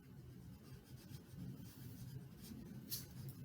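A pencil sketches and shades tone on paper, giving a continuous soft, close scratching and rubbing of graphite strokes over a quiet background.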